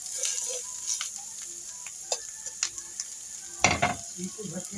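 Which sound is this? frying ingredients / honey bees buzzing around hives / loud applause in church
frying ingredients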